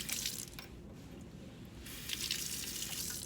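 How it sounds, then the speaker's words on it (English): Running water rinses a freshly soldered copper rose petal, a steady broadband splash that thins briefly in the middle before resuming fuller, with no one speaking. "I'm going to rinse it off."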